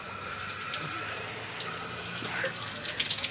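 Shower water runs steadily as a soft, continuous hiss and spatter, fairly quiet, with a brief louder splash toward the end.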